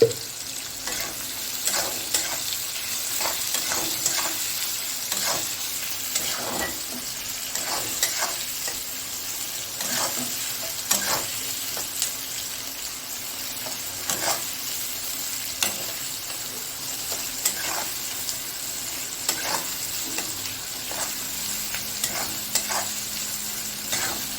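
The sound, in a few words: onions frying in a pan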